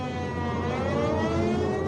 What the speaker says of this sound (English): suddenly the warning sirens sound